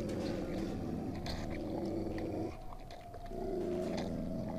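Dogs growl in the video game Cryostasis, a low continuous rumbling snarl with slight variations and a brief dip near the middle, heard alone amid dark ambient game noise.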